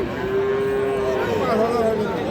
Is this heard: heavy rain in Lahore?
no